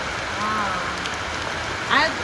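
Monsoon rain patters steadily onto surfaces and into cans set out to collect drinking water, a continuous wash of drops with a brief louder splash near the end.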